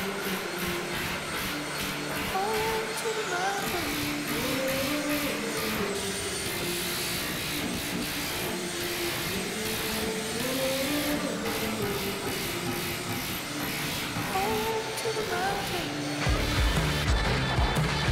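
A grit sander grinds down a steel galley deck aboard a vessel, with a loud, continuous machine whine that drifts up and down in pitch and rough scraping throughout, with a heavier thump at the end.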